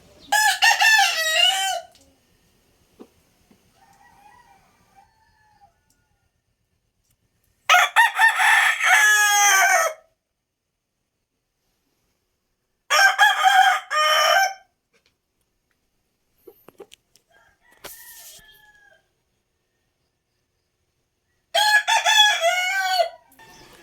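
Gamecock roosters on a farm crow loudly in four separate bursts spaced across the stretch, with faint clucking between them and quiet gaps.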